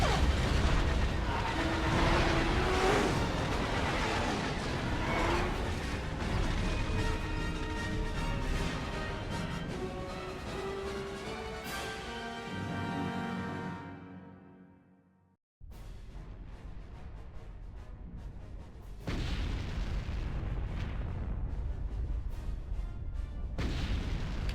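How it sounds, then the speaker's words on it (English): Blaster gunfire and explosions in Star Wars: Knights of the Old Republic, dense booming rumble with scattered shots and musical tones, fading to silence midway before the heavy roar returns. "oh, they shooting! They shooting!"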